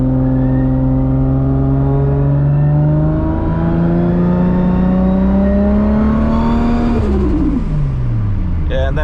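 A 1000HP+ MKIV Toyota Supra with a turbo 400 transmission and high-stall converter, running on its lowest 770 horsepower setting, gives a loud, steady interior engine drone that rises in pitch under acceleration, then drops as it shifts near the end.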